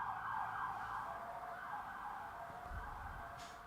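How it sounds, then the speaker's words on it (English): An emergency vehicle siren passes by outdoors, wailing loudly and steadily throughout with traffic rumble beneath, no one speaking over it. "It's a siren going by."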